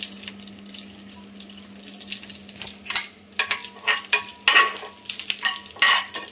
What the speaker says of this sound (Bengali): চলো আগে লঙ্কাগুলো ভেজে নিই